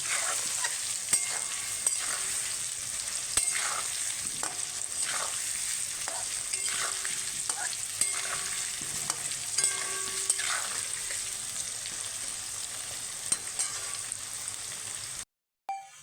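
Potatoes frying in hot oil with Kashmiri chilli, a steady close sizzle and crackle with occasional stirring scrapes throughout, cutting off abruptly near the end.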